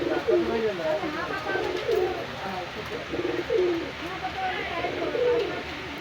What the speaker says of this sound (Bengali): অনেক সুন্দর ভাইব্রেট কবুতর